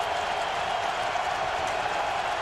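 A dense roar from a big college football stadium crowd at Tennessee versus Arkansas, a steady wash of cheering and applause with no break.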